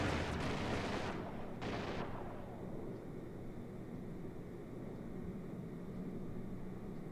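A starfighter fires on the player's ship in Star Citizen: a couple of loud blasts burst out at the start, then fade into a steady low engine rumble with no voices.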